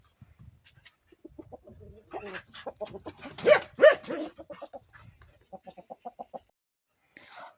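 Several hens cluck in short bursts, with a louder, drawn-out rooster call in the middle at feeding time; close by, with pauses between calls.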